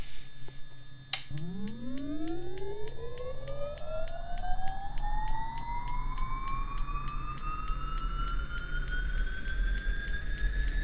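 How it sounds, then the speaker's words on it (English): Beechcraft 1900D turboprop engine starting up in the X-Plane 10 flight simulator: a click, then a whine rising steadily in pitch and spooling up over several seconds to a sustained high tone, loud and continuous with no talking. "let's fire up the starter"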